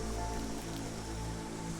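Steady light rain in Against the Storm, a soft even patter and hiss over a low ambient hum, constant and unvaried throughout with no voices.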